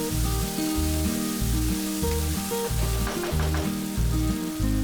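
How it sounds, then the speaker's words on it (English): Chopped tomato fries in a pan, a soft continuous sizzle hissing beneath louder rhythmic background music throughout. "Then add 1 tomato chopped and fry it until the tomatoes are nice and soft."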